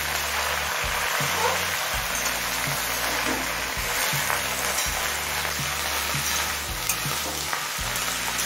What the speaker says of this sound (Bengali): খারকোল পাতাটা দিয়ে মিনিট 3-4 ভাজা ভাজা করে নিয়েছি।